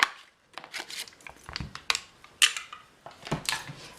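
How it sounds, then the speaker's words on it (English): Sharp clicks and crunches of a 2 1/4-inch circle paper punch cutting through cardstock, several close, distinct snaps in an uneven rhythm with paper rustling between them and no talking. "we're going to use the 2 1/4-inch circle punch"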